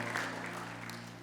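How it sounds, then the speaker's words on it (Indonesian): An audience at a worship night applauds in a steady wash of clapping over sustained background music, fairly loud and continuous through the short moment. "Kasih tepuk tangan dulu buat Tuhan"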